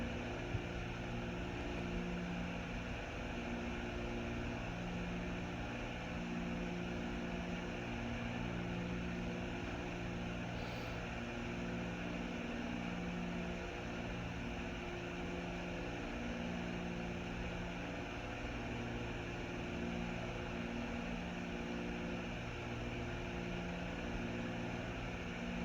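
Twin engines of a Cessna 310 in cruise flight in the X-Plane simulator, a steady low droning hum with layered propeller tones that stays even and continuous throughout.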